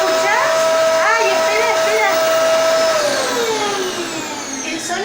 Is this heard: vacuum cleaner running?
yes